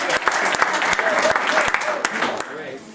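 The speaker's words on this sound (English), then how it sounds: "a round of applause to the man behind the woman, Jack Spayde." An audience at a retirement celebration breaks into applause, with hands clapping in a steady crackle and sharp individual claps standing out, while voices are faintly heard in the crowd.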